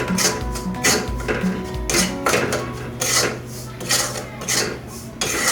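Semolina roasting with a spoonful of ghee in a pan for karanji, a spoon rhythmically scraping and rasping against the metal in repeated strokes, close and fairly loud.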